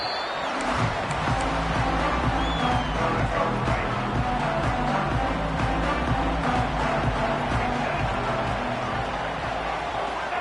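Stadium crowd at an American football game after a score, a broad sustained roar and murmur of many voices holding steady throughout, with a commentator talking over it.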